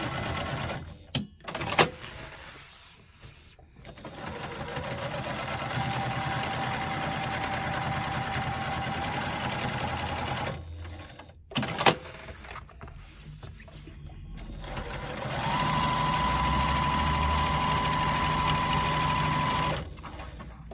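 Sewing machine quilting faux leather backed with thin headliner batting, running in two long fast bursts of steady high-speed whirring with a humming motor tone, separated by short pauses and clicks, close and loud.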